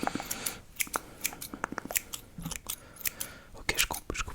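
Scissors snip close up through fringe strands of hair falling over the eyes during an ASMR role-play. Crisp, rapid snips come in irregular clusters, quiet and intimate.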